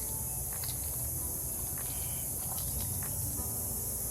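A steady, loud high-pitched drone of cicadas fills the background without pause, with a few faint chirps and rustles underneath.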